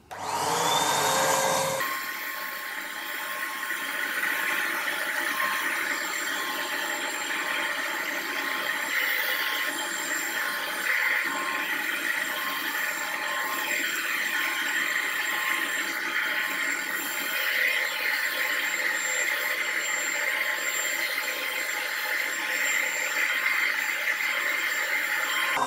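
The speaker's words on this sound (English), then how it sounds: "I turn on the blower and let's start blowing some powder." A homemade powder coating gun's blower runs steadily, a loud continuous whooshing airflow with a constant hum, starting abruptly and holding without pause.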